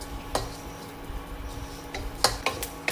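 A spoon knocks and scrapes against a pan while thin sesame seeds roast over a low-to-medium flame, giving a few sharp clinks over faint background hiss.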